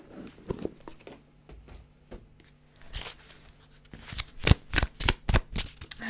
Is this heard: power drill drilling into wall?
no